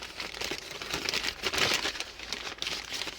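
Folded paper bag around a breakfast burrito crinkles and rustles in close, continuous bursts, with handling noise rising and falling and no talking.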